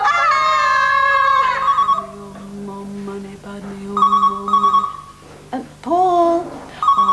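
A telephone rings in a 1991 television comedy set in a house, with warbling electronic rings broken by gaps and mixed with lively voices talking.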